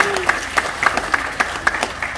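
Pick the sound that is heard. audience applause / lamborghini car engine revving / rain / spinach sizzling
audience applause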